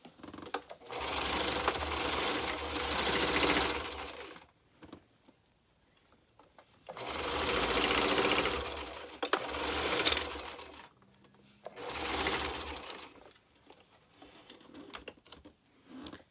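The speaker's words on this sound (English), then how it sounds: "I'm gonna make sure that I zigzag stitch several times over on this section right here when I'm sewing these together." Three sustained bursts of a close sewing machine zigzag stitching fabric, each a few seconds long with a steady whirring rattle, separated by quiet pauses and small handling clicks.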